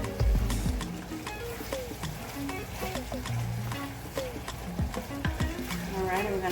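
Ground meat and minced garlic sizzling in a frying pan while being stirred, with steady frying crackle and scraping utensil sounds, a voice talking over it at times.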